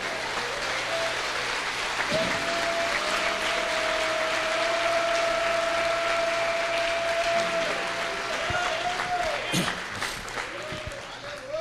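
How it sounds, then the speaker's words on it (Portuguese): A church congregation claps steadily while long sustained keyboard tones hold underneath, with voices mixed in and the applause thinning out toward the end. "Alguém pode aplaudir o Senhor aí,"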